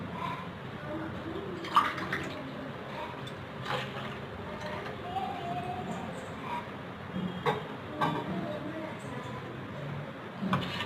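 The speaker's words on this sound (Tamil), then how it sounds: "நான் 2 கிளாஸ் தண்ணி ஊற்றுறேங்க." Two glasses of water pour steadily into a pot of pepper garlic rasam with a soft, continuous splashing, broken by a few clinks and knocks, while a person speaks over it.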